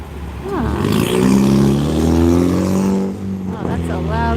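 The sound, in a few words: loud car passing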